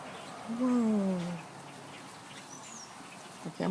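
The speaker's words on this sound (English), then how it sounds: "There's so many birds." One drawn-out, quacking bird call sounds outside an open window, fairly close but quiet, followed by faint scattered chirps over a soft background hiss.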